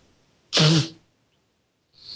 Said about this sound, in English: Pardon while I sneeze.